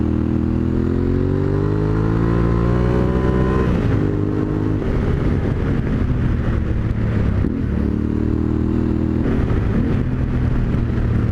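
Yamaha Ténéré 700 adventure motorcycle blasting along a highway at speed, engine loud and close with rising revs through the gears, a brief shift dip, then sustained high-speed roar.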